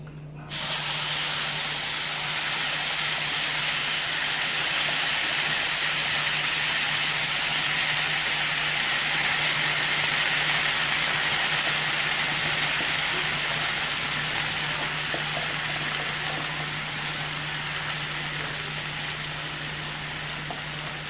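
Food sizzles loudly right after hitting the pan while a Mexican-style breakfast cooks, a sudden burst of hiss that stays steady and strong, slowly easing over about twenty seconds, close up with no voices.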